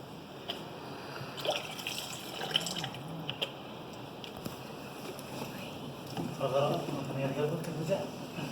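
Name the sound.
water poured over a Motorola X4 phone in a bowl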